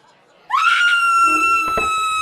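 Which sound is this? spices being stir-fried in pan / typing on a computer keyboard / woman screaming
woman screaming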